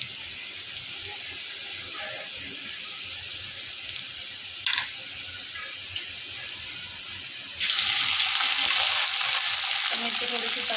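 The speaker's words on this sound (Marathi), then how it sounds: "लसूण लाल झाला की बारीक केलेली पेस्ट मिरचीची आणि लसणाची ती आपण घालून घेऊया।" Garlic and green chili paste frying in hot oil for a tempering, a steady soft sizzle with faint clinks, then a sudden louder, brighter burst of sizzling as the paste hits the pan near the end.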